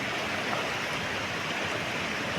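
A rain-swollen village river rushes steadily during a heavy monsoon downpour beside flooded farm fields, a dense, unbroken roar of water and rain filling the whole moment, close and continuous with no voices.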